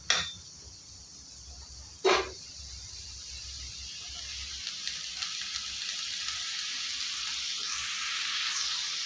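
Tomatoes for tomato rice sauté in a pan with a faint, steady hiss. Two sharp clinks of a utensil against the pan sound near the start.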